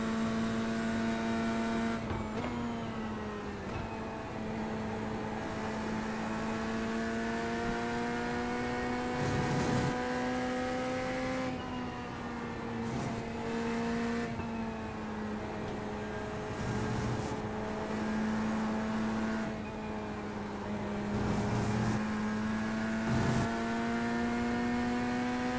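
Corvette GT3 race car engine in iRacing at Le Mans, loafing at low RPM with a subdued, steady droning note that swells and eases slightly with the throttle throughout.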